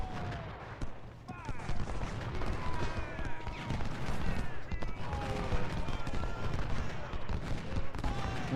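Heavy gunfire in an Ultimate General Civil War battle: dense, continuous volleys of musket and artillery fire rumble throughout, with a voice talking over the din.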